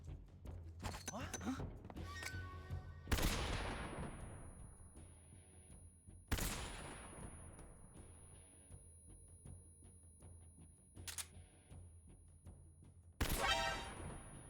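Gunfire and explosions from the Metal Gear Solid 3 video game: four loud, sharp blasts with long decaying rumbles, spaced a few seconds apart, separated by quieter thuds and clatter.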